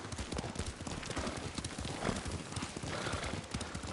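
Horse hooves clip-clop at a steady trot while riding in the Ghost of Tsushima video game, a dense, continuous rhythm close up with a faint outdoor wash behind it.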